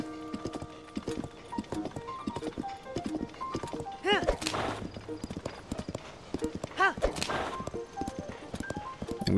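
Horse hooves clip-clop in The Legend of Zelda: Tears of the Kingdom, walking rhythmically near Kakariko Village with a couple of whinnies, while a person talks over the sounds and game music plays softly.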